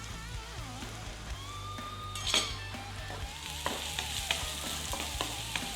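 Onion and peppers frying in a pan alongside prawns, a close continuous sizzle broken by a few sharp pops and spatters and the scrape of a utensil stirring.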